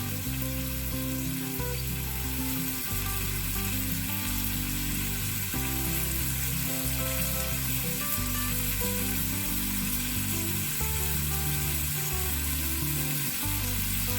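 Onions frying in a pan for a Midwestern goulash, a loud, dense, continuous sizzle that stays close and even throughout with no voices over it.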